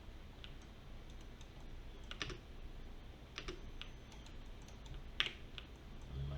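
Soft key taps on a computer keyboard while a value is entered during 3D modeling, arriving in scattered clusters of clicks, close but quiet.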